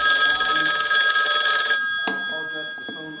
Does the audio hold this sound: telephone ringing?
yes